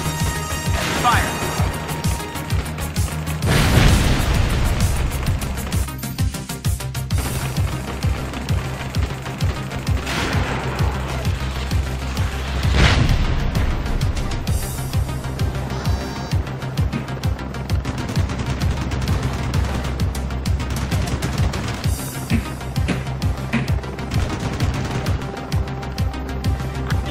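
Helicopter combat in Ace Combat Assault Horizon with an AH-64D: steady rotor and engine rumble with repeated bursts of gunfire and a few heavy booming explosions, under radio voices.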